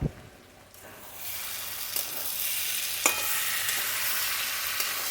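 Jackfruit curry with tomato and sugar is stir-fried in a pan, starting with a soft clatter and building into a steady close sizzle with occasional scraping strokes and no talk.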